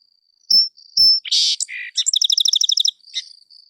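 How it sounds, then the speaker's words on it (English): A winter bird sings from forest or backyard: two clear whistled notes at the same pitch, then buzzy phrases and a fast, bright trill of repeated notes, close and loud against silence. "when it first sings, it's those 2 clear notes that are the same note, the same pitch"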